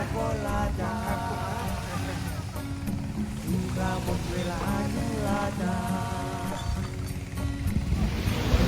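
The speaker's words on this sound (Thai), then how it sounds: "วันก็เก็บบรรยากาศยามเย็นที่หาดจอมเทียน มาให้ชมตอนพระอาทิตย์ตกดิน" Evening at Jomtien Beach with waves washing ashore under steady wind noise, a continuous broad rush, while people chat and voices drift through the background.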